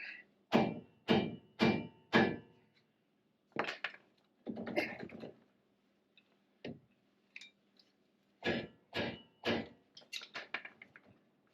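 Sharp metallic hammer blows on a Ford F-150 truck part in quick bursts of three or four, then pauses and more strikes, loud and close with ringing overtones.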